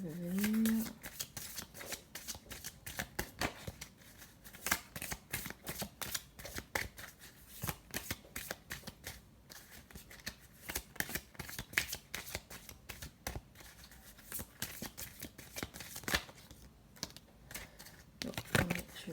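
Tarot cards riffled and shuffled by hand during a card reading, a dense run of quick papery flicks and taps across the whole span, with a brief voice at the start.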